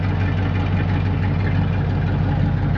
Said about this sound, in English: As you can see, it idles now, and it idles pretty well actually.